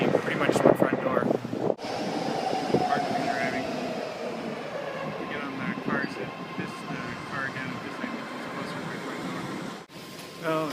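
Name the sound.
BART subway train ride underground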